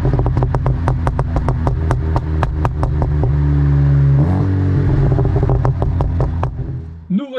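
A Volkswagen Golf 7 GTI Clubsport, Stage 2 at 360 hp with a full straight-pipe exhaust, revs loudly and close up, the engine droning steadily with a rapid series of sharp crackles and pops before it settles near the end.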